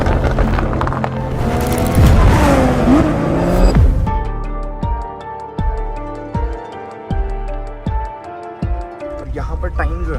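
A Thar Roxx SUV rolls up onto a trailer, its engine and tyres rumbling close by for a few seconds before a run of regular metallic clanks and knocks takes over as the vehicle settles and is secured.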